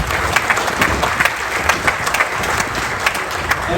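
Sustained round of applause from a crowd at a groundbreaking ceremony for the Pacers' G League arena in Noblesville, steady dense clapping with scattered sharper claps throughout.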